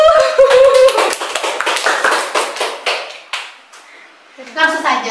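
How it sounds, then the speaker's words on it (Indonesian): A small audience at an LPM Aksara student press gathering claps in a brief burst of applause. The clapping is mixed with a speaking voice, then fades into quieter talk. "Tepuk tangan semuanya."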